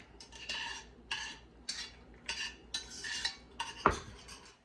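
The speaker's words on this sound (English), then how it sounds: "Stir it up until the butter melts" Macaroni being stirred in a pot as butter melts, a spoon scraping and clinking against the metal in about eight rhythmic, close strokes, one sharper knock near the end.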